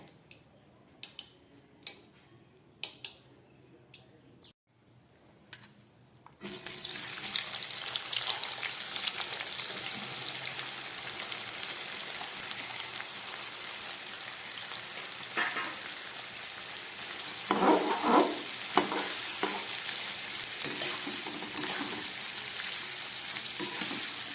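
Sliced onions for Kolkata-style biryani drop into hot oil left from frying potatoes. After a few light knocks and a brief silence, a loud, continuous sizzle sets in up close, with occasional stirring clatter and scraping.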